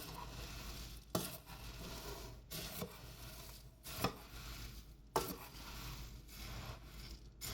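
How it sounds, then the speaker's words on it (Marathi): Puffed rice chivda mixture being stirred in a pan, with a soft continuous rustle broken by a few louder scraping clanks about a second apart, fairly quiet and close. "पण पहिला आपण हा सगळा असा छान ढवळून घेऊया"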